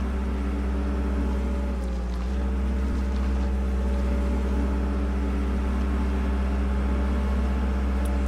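A scavenged vehicle in the survival game Dysterra drives along with a steady low engine hum and drone. The sound stays constant throughout with a brief dip midway, and no voices are heard.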